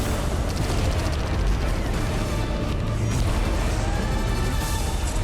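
Dense, continuous rumbling blasts and booming explosions from the space game EVE Online, loud and sustained, layered with crackling debris and bursts throughout.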